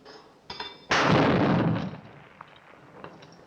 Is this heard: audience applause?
no